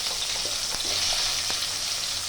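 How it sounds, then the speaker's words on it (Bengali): Kakrol (spiny gourd) fries in hot oil in a kadai, a loud, constant close sizzle with a few faint taps of stirring and no voices. "কাঁকরোলটা ভেজে নেব।"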